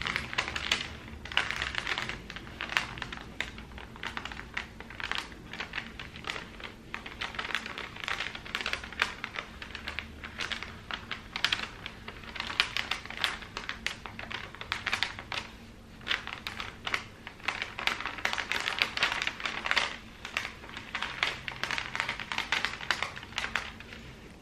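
Scissors cut fabric for a homemade Christmas stocking in a long run of close, quiet snips and crisp chopping sounds, with the rhythm shifting slightly as the blades follow a rough curved line.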